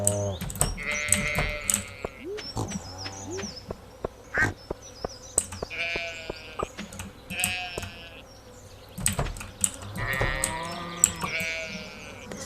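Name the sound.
sheep bleating in Stardew Valley video game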